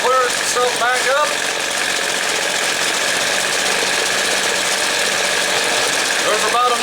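A small two-stroke engine idles after its carburetor has been adjusted, running close and loud with a steady, slightly rough buzz. A voice speaks briefly over it at the start and again near the end.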